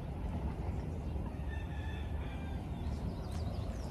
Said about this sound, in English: There's two more chickens right there.